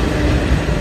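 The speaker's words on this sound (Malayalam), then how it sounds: "പരശുരാം എക്സ്പ്രസ് ആണ് വരുന്നത് കേട്ടോ." The Parasuram Express, hauled by a WAP-4 electric locomotive in a tricolour livery, makes a loud, steady, low rumble as it arrives at the station, heard briefly and up close.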